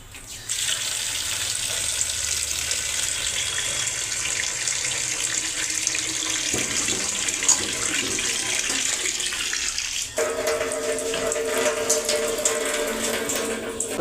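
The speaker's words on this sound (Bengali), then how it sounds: "এখন আমি সবজিগুলো ধুই করবো" Running tap water splashing as vegetables for a Bengali village-style curry are washed in a sink, a steady close hiss with the pitch changing as the flow hits the produce.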